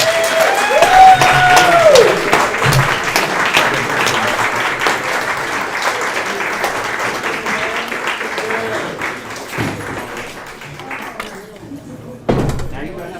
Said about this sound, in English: I want everyone to give the graduates a standing applause